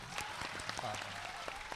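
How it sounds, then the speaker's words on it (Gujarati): An audience at an evening devotional program claps in a steady patter of applause, moderately distant, with a voice speaking over it. "જોરદાર તાળીઓ આપણે એમના માટે એક વખત આપી દઈએ"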